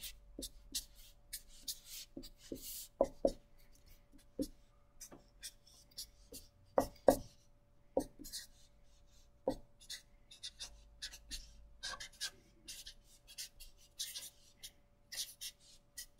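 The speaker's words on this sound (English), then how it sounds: "I'm going to draw a couple of clocks on here." A pen draws clocks on paper with a series of short, scratchy strokes and taps separated by pauses, close and fairly quiet, with no talk.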